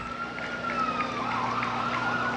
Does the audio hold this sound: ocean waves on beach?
no